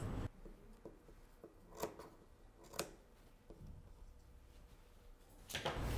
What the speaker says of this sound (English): Cut the tuck to the end.